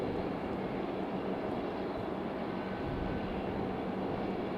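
A Breeze Airways airliner at Raleigh-Durham airport roars with a steady, broad jet rumble that holds constant and moderately distant throughout, with no voices.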